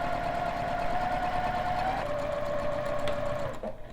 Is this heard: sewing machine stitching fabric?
yes